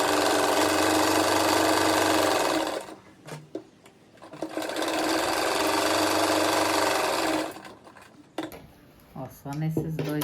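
A sewing machine stitches fabric for a patchwork rug in two rapid whirring runs of about three seconds each, separated by a pause filled with light handling clatter.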